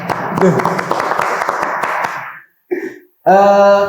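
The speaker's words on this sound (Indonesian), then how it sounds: "Tepuk tangan untuk saya" Audience in a school library session breaks into dense, loud applause that fades out, followed by brief voices.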